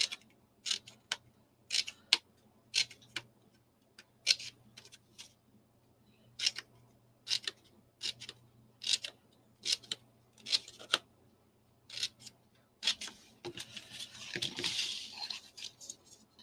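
Small scissors snip the corners of paper for a handmade minibook, each cut a crisp, close snip repeated in a steady series of short bursts over near silence, with a soft rustle of paper at the end.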